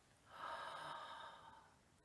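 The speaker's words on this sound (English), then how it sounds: "Breathing in and breathing out." A single slow, deep breath drawn in and let out during a children's mindfulness exercise, soft and breathy, swelling and then fading over about a second and a half, quiet and close.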